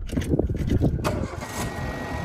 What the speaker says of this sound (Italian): Ma prima di finire, l'auto si accenderà ancora.